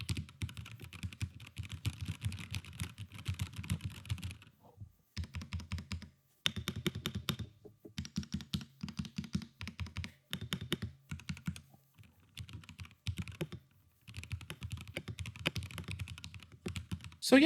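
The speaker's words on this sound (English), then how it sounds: "as far as the general sound of the keyboard, I think it sounds great" Fast, steady typing on a Nimbleback LTC NB681 keyboard with smooth non-tactile switches, a dense run of soft keystrokes in several bursts separated by short pauses, close and fairly quiet with no talking.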